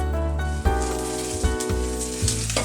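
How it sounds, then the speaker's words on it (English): Okonomiyaki sizzling steadily on a hot griddle, a continuous close frying hiss with a few brief bumps and scrapes as it is flipped and handled, no talk. "When the edge of the okonomiyaki is browned, flip it over with 2 flippers. Put the lid on and continue cooking for a few more minutes."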